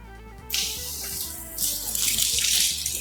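Water splashes and gushes over a Uwinfly M60 electric bicycle to mimic rain, starting abruptly after a short quiet moment and continuing as a loud, hissing pour with a low steady hum beneath.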